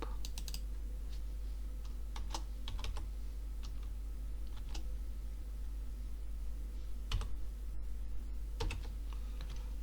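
Rapid keystrokes on a computer keyboard while someone edits a Google Sites contacts page: clusters of crisp clicks and a few louder key taps over a steady low hum, with no voices.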